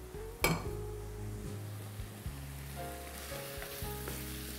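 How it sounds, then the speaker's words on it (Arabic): Pasta tipped into simmering tomato sauce in a pan, starting with a sharp clatter and splash, then a low steady sizzle and bubbling with a few soft stirring clinks. "تنزلي عليها ايه المكرونه"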